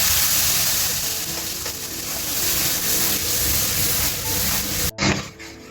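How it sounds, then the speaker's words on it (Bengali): Tomato and green chili paste sizzles loudly as it hits hot oil with tempering spices, a dense continuous hiss and crackle that cuts off abruptly near the end, followed by a brief faint clatter. "টমেটো আর কাঁচা লঙ্কা পেস্ট দিয়ে দিল এবার ওই ফোড়নে।"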